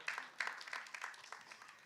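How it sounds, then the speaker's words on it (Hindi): Brief applause from an audience greeting Janhvi Kapoor at a Chandigarh event, a short burst of fairly faint, uneven claps with a few sharper hits, fading quickly. "एक बार जानवी के लिए जोरदार ताली हो जाएगा"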